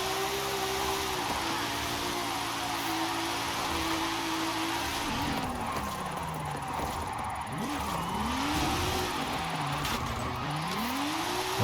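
A tuned car's engine in Forza Horizon 5 drones steadily at speed, then repeatedly revs up and drops back through gear changes and corners, loud and continuous with no voices.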